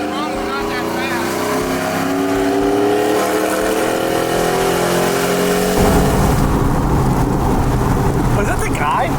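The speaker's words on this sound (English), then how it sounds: "One downshift flyby." A truck thunders past with a loud engine roar that drops in pitch as it downshifts, then swells into a rough, rumbling surge close by, steady and without voices.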